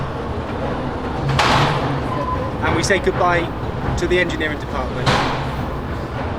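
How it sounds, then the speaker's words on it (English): A battery-powered London Mail Rail underground postal train rumbles steadily through its tunnels, with clattering thumps and squeals over a constant low drone while someone talks over it. "Now these trains are not electrified as such, they operate on batteries which are charged."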